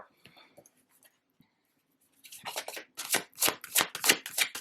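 Tarot cards being shuffled by hand in a run of crisp, rapid riffling bursts that grow louder and denser after a quiet opening with faint handling sounds.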